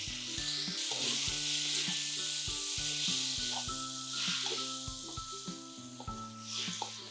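Rice noodles tossed into a hot pan with crispy fried tofu for pad thai sizzle loudly and continuously up close, with recurring stirring scrapes and clatters of the utensil against the pan.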